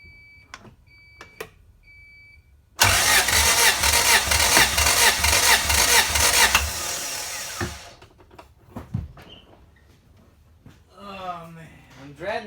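Honda B17 engine in a CRX cranking over on the starter for a compression test of cylinder one, a loud steady rhythmic chugging burst of about four seconds, with brief tool clicks before and faint talk after.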